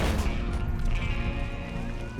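Pistol shots in the western game Red Dead Online, a couple of loud close reports with a ringing tail, layered under talk.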